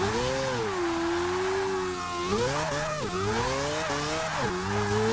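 A 2014 Nissan Juke Nismo RS in the racing game Forza 6 spinning its front wheels in third gear, the engine droning and wavering in pitch as it revs continuously under a constant tire-squeal hiss, with no talk.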